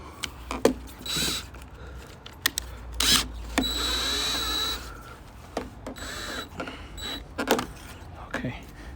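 A power drill drives screws into a vinyl fence outdoors in several short whirring bursts of rising whine and grinding, separated by pauses with clicks and handling knocks, while a person talks between them.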